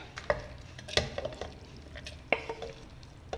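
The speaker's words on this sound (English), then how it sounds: "Now we will transfer this to a mixie jar." Cooled chutney mixture is scraped from a pan into a mixie jar, with soft clinks of a spoon on metal and glass and gentle scraping, quiet and close with no speech.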